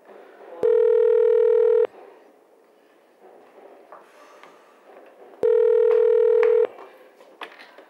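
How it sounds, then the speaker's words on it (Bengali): Two long electronic telephone rings, each lasting over a second with a pause between, loud and close in a quiet indoor room with faint background noise. "ফোনটা ধরুন না।"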